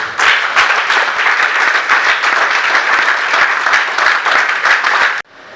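Church congregation applauding Father Rodrigue at an anniversary homily, loud and steady clapping from many hands that lasts several seconds and then cuts off abruptly.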